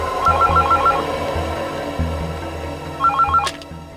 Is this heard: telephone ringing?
yes